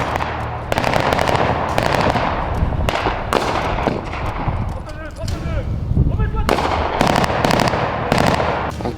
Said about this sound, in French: Les premiers coups de feu éclatent à l'extérieur